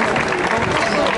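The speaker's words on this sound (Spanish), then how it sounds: "¡Aplauso fuerte!" Crowd applause and cheering at a Chilean freestyle rap battle event, a dense, loud, continuous roar of clapping and voices filling the whole moment without pause.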